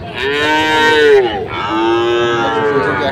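Sahiwal bull calves at a cattle market give two long, loud, close moos, one after the other with a brief break between them.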